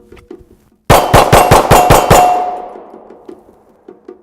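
A Gen 5 Glock 19 pistol fitted with a red dot sight fires six sharp, loud shots in quick, even succession, with the ringing echo decaying after the last shot and faint handling noises before and after.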